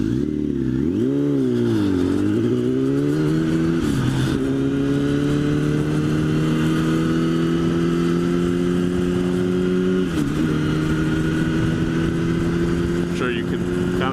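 A motorcycle engine revs up loud and close, climbing in pitch, then drops as it shifts gears, with rising pulls separated by brief dips between shifts.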